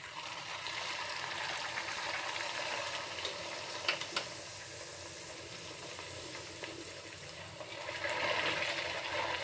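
Pea-filled kachori fry in oil, giving a steady, quiet sizzle with a few soft clicks and stirring sounds, and no voice over it.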